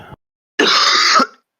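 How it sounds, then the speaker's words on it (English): A single harsh throat-clearing cough, close and loud, lasting about half a second after a brief moment of silence. "I'm sorry for coughing so much"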